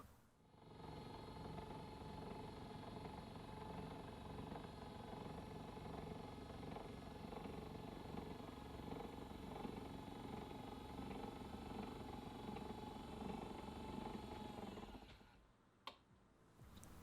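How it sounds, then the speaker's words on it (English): An ACGAM electric standing desk motor runs as the desk moves, giving a continuous steady mechanical hum and whine for about fifteen seconds before stopping, followed by a single sharp click. "So for those of you that want to hear how this sounds, then this bit's for you."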